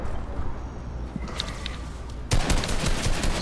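Gunfire in a video game: dense bursts of shots, growing louder and continuous in the second half, with nobody speaking.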